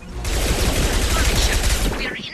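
Dense automatic gunfire in the video game Mass Effect 2, a loud continuous fusillade of rapid shots with overlapping bursts, close and filling the whole moment.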